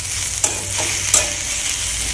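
Onion, chili and tomato fry in a pan with a steady sizzle, while a spoon stirs and scrapes a couple of times near the microphone. There is no talk.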